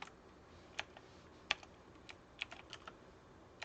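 Sparse, faint keystrokes on a computer keyboard tap out in irregular clusters, with a few sharper clicks standing out over a quiet room and no voices.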